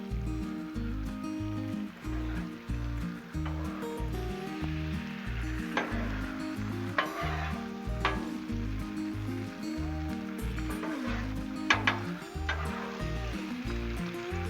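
Eggs sizzle steadily on a hot Blackstone griddle, with a constant crackling hiss, occasional scraping of a utensil, and a low rhythmic hum running underneath.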